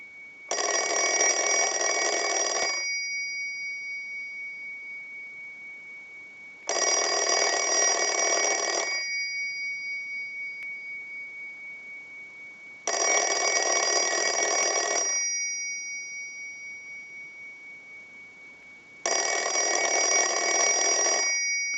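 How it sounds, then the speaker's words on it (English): An Automatic Electric Monophone rotary telephone bell rings in four long, loud bursts of roughly two seconds each, separated by regular pauses in a steady ring cycle, with no other sound in between. "send a ring cycle like you were getting a call"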